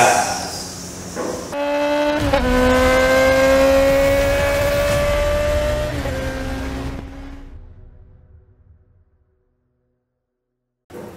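A car engine revs hard on a race track, its droning, pitched roar holding steady, dipping briefly, then rising again before trailing away into silence, loud and alone.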